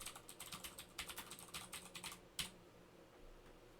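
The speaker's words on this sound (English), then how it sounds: "And this is some typing." Rapid clicking of keys on a computer keyboard, a steady flurry of keystrokes ending with one louder tap, then quiet.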